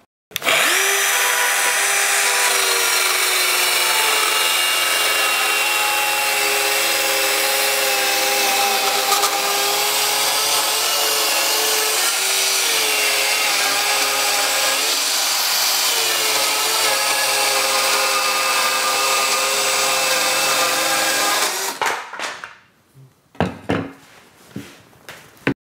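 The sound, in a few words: Bosch GKS 12V-26 cordless circular saw cutting wood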